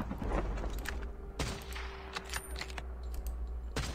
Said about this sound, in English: this thing takes that long to reload and it still doesn't one-shot like that?